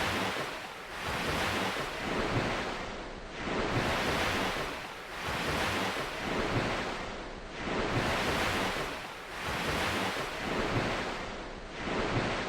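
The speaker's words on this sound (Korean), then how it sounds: "바닷가 파도 소리 이 정도면 된 것 같습니다." Ocean waves wash onto a beach in slow, regular surges, each one swelling and fading, loud and close with no other sounds.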